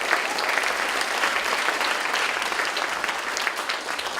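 Dense, even applause from a dinner audience fills the room at moderate loudness, a steady wash of many hands clapping without pause.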